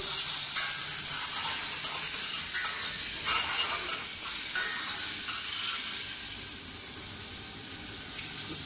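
Aromatic vegetable garnish sweating in a pan over lowered heat, giving a continuous close sizzle with faint stirring scrapes that eases slightly toward the end. No voices.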